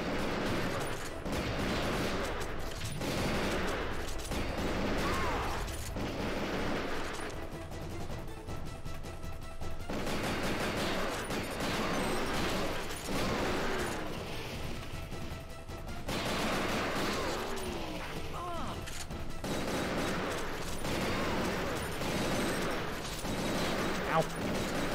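Sustained bursts of enemy gunfire in the shooter game Ghost Squad, loud and dense throughout, with repeated volleys and brief lulls under ongoing game noise.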